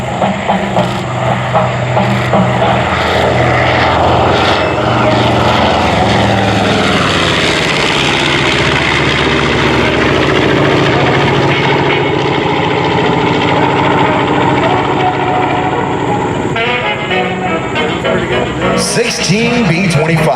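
A B-25 Mitchell bomber flying low at the New York International Air Show, a loud continuous piston-engine drone that shifts in pitch as it passes, with wind noise and some crowd sound at the end.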